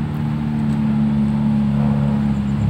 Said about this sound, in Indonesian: Knalpotnya sangat mirip racing bener knalpotnya.